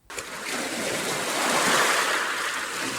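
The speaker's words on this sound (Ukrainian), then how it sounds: "Це море." Sea waves wash in a broad, steady surf roar that rises after a brief start and holds loud and continuous throughout, with no voices.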